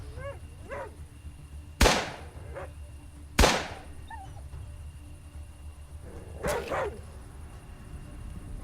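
Wolves snarling, yelping and barking during a fight in the post-apocalyptic RPG Atom RPG, with two sharp gunshot-like cracks cutting through and a burst of yips later, fairly close.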